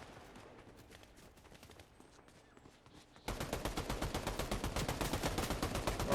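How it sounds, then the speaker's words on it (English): Fortnite fireworks in a video game crackle in a dense, rapid burst that suddenly gets much louder midway and keeps popping steadily to the end. "Alright, there's some fireworks."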